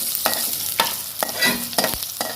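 Bengali spices, foron, chorchori and methi, fry in hot oil over a lowered flame, a close, constant sizzle broken by regular scraping stirs about every half second.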